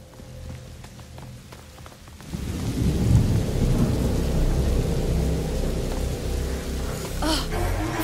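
Heavy rain and rolling thunder in A Plague Tale: Innocence: a quiet opening gives way to a loud, steady downpour with deep rumbling, holding strong to the end.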